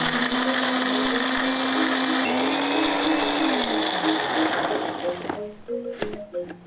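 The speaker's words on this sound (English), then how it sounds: "Blender smoothly." A kitchen blender whirs loudly as it purees candlenut, white peppercorn, coriander seed, garlic and shallot with water, holding a steady motor whine and a slight pitch dip before switching off, followed by a few light clinks.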